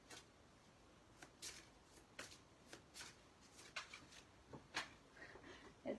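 Tarot cards are shuffled and drawn by hand in a quiet room, a string of soft papery riffles and slaps with brief pauses between them, with no talk over them.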